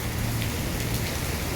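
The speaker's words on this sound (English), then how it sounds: "it's been raining" Steady, dense rain pours continuously during a night of heavy rain warnings in the Philippines, a broad even hiss close by with no voices over it.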